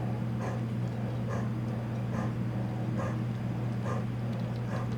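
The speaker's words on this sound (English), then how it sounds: "My dog is panting like a maniac, in case you can hear that." A dog panting near the microphone, with rapid breathy puffs in a steady rhythm, set over a constant low electrical hum and quiet background noise.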